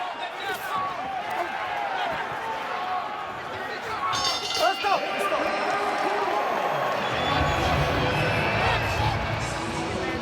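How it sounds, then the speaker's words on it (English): Boxing arena crowd in Melbourne at an undisputed lightweight title fight, roaring loudly in response to a punch, with the swell building and staying dense across the clip while voices talk over it. "And you hear the reaction from the crowd."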